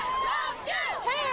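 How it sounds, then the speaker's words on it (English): Hundreds of Montbello students marching in protest through the streets of northeast Denver chant and shout together, a loud, overlapping wash of raised young voices in rising and falling cries. "the chanting these students chose to use was a bit vulgar"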